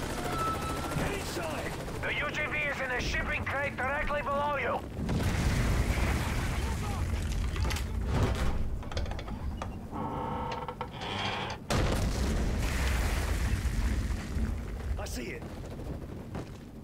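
A battlefield scene from a Himachal Pradesh defence drill with an unmanned ground vehicle: heavy booms and rumbling blasts like a grenade explosion, mixed with bursts of rapid gunfire, loud and dense throughout with voices underneath.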